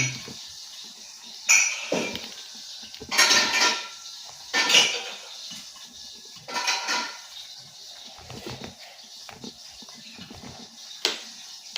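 A knife cuts through boiled kamansi (breadnut) on a board, making several separate, sharp knocks and scrapes with quiet gaps between them, close and fairly faint, with no talking.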